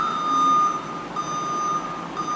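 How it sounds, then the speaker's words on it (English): A forklift's backup alarm sounds as a steady, piercing electronic beep. It holds almost continuously, with brief breaks, over low workshop background noise. "My backup alarm works."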